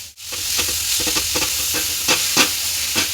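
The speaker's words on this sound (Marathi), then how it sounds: "जोपर्यंत गूळ वितळत नाही तोपर्यंत आपल्याला हा मिक्स करून घ्यायचा आहे" Coconut and jaggery are stirred in a pan over a low flame for modak filling, giving a close, soft sizzle with a quick series of scrapes and light clicks. There is no speech.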